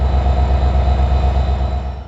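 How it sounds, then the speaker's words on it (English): Alaska Railroad Denali Star passenger train departing Anchorage, a loud, close, continuous low rumble with rhythmic rolling clatter and a faint steady tonal whine, easing slightly at the end. "the classy train departs Anchorage."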